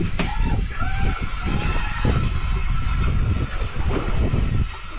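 Strong wind buffeting a fishing boat at sea on a red snapper trip, a steady loud roar of gusts and engine-like rumble filling the whole clip, with faint bursts of voices underneath.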